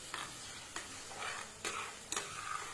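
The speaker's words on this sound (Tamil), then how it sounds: "நல்லா வதங்கிடுச்சு பாருங்கள் வெங்காயம்." Onions sautéing in a pan with a soft continuous sizzle, broken by a few sharp scrapes of stirring spaced about a second apart, close and fairly quiet, with no voices.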